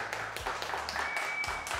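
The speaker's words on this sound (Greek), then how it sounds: "Ένα χειροκρότημα" Applause and clapping from a studio audience on a Greek cooking show, with music underneath and moderate, steady hand claps running throughout.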